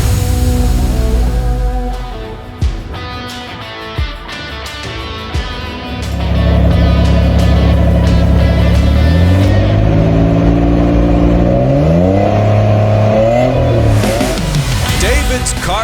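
A 1987 Nissan 300 ZX engine revs up and holds loud, steady high revs that rise in pitch and fall back, with sharp broadband bursts early on and strong harmonic engine tones throughout.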